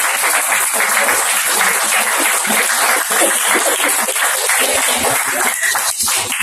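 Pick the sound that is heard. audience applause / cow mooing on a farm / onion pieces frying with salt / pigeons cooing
audience applause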